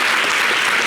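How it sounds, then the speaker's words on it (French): A brief, dense burst of audience applause at a French conference talk on domestic violence, loud and steady throughout with no voices over it. "Et ça s'applaudit."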